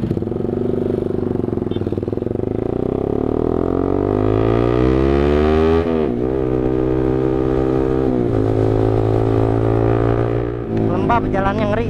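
A Suzuki Satria FU motorcycle revs hard on a night ride. The engine whine climbs steadily through the gears, with sharp drops at each shift, loud and close over wind noise. Speech is faint underneath.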